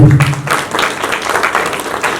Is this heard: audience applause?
yes